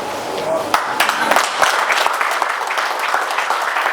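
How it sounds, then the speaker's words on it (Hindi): Loud, steady applause from a crowd, dense clapping that keeps going without a break. "जोरदार तालियां।"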